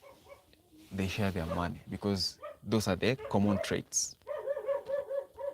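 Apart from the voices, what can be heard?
dogs barking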